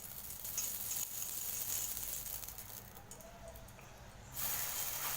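Msemen flatbread dough made with milk fries in oil in a pan, giving a steady, fairly quiet sizzle that dips slightly midway and then swells again.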